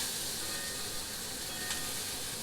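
Steak searing in a pan gives a steady, even hiss and sizzle that holds throughout with no talking.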